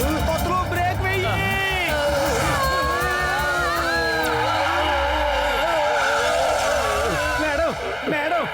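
Cartoon race cars brake hard and skid, with long squealing tire tones sliding up and down over loud engine roar, while characters talk throughout.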